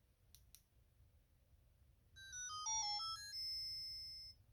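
Nintendo Game & Watch: The Legend of Zelda handheld powering on, a bright electronic chime of stepped tones that descend and rise again before settling into a held note, loud and close over a low background hum, with no talking.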